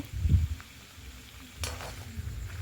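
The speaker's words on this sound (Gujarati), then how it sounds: "આવી રીતે ચમચાની મદદથી હલાવતા રહીશું અને બધા મસાલા મિક્સ કરતા રહીશું" A spoon stirs boiled chickpeas with turmeric, red chili powder, coriander-cumin powder, amchur and salt in a pan over a medium gas flame for chana masala. Soft close scraping strokes sound over a faint sizzle.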